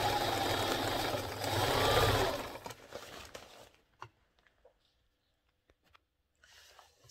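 Sewing machine stitching a curved seam on a pants side pocket, a loud steady mechanical whir and rapid needle chatter for several seconds, then stopping, leaving only a few faint clicks and handling taps.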